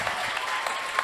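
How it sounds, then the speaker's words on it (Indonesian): Audience clapping at a book discussion, a brief, dense burst of applause that stays steady and fairly loud from start to finish. "tepuk tangan, bagus."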